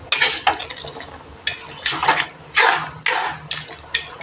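A spoon stirs goat caldereta ingredients in a metal cooking pot with repeated wet scraping and clinking strokes, close and loud, in an irregular rhythm of about eight strokes.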